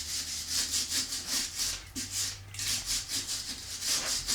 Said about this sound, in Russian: Берем щетку по металлу. Аккуратненько очищаем